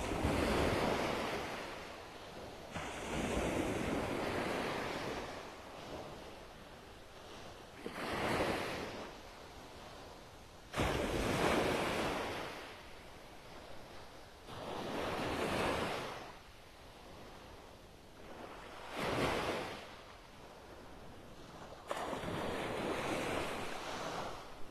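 Small ocean waves wash onto a beach in North Naples, Florida, in a slow rhythm of swelling surges every few seconds, with wind buffeting the microphone and no one talking.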